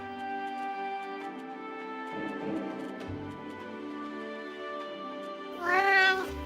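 A cat meows in a long, drawn-out tonal cry that wavers in pitch, then ends in a louder rising yowl, heard alone and close.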